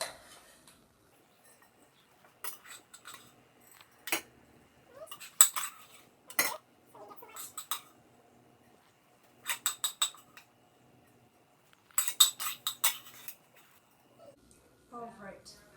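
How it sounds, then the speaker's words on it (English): A spoon scrapes and knocks against bowls in sparse clinks and clatters while rice is portioned into four bowls, close and fairly quiet, with soft gaps between the bursts. "I'm just going to take my rice and divide it evenly between the"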